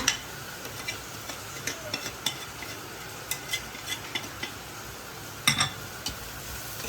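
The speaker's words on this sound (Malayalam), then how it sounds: "പച്ചമണം മാറാൻ വരെ ഇളക്കുക" Coriander powder, turmeric and garam masala are stirred into a chicken roast masala in a pan, heard as a faint, low sizzle punctuated by light, irregular spoon taps and scrapes against the pan.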